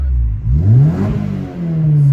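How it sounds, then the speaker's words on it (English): A Honda S2000 engine revs up loudly, its pitch climbing and falling through a couple of throttle blips, close to the microphone. "Crispy revs for you guys."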